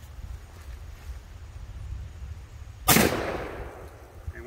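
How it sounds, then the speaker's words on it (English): A single loud, sharp blast from an old Iver Johnson Champion shotgun, fired outdoors and trailing off in a short echo after quiet wind and background noise. "I'm gonna fire it again for you."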